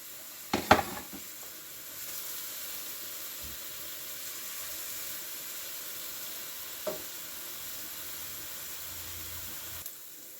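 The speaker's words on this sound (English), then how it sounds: "I'm going to add my onion in here. And I'm going to let this saute for a little bit." Chopped onion sautéing in a pan for chicken and rice gives a steady, even sizzle, with a couple of brief utensil clatters near the start and one more partway through. No one speaks.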